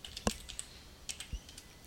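A name being typed on a computer keyboard, with faint, close, irregular key clicks and a couple of sharper taps in a quiet room.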